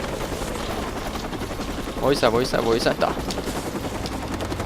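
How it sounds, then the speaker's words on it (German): A helicopter's steady rotor drone fills a Watch Dogs police-chase scene, joined by bursts of game gunfire, while someone speaks German excitedly over it in the middle. "Helikopter."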